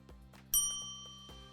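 A bright notification bell effect rings once, loud and clear, then lingers in a smooth fading tone. Soft, light ticks come before and after it.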